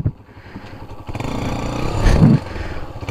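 A motorcycle engine stuck in mud is revved in gear, a close, rising mechanical drone that swells and peaks briefly before easing off.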